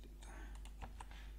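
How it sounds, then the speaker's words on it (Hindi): A few soft, quiet key presses on a computer keyboard while deleting an item in Microsoft Word, spaced unevenly over a low steady hum. "कीबोर्ड से डिलीट की प्रेस करके मैं इसको डिलीट कर देता हूँ।"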